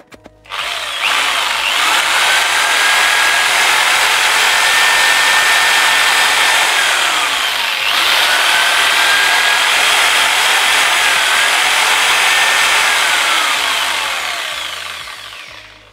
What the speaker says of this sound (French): Je vais brancher cette scie sabre qui a une puissance de 710 watts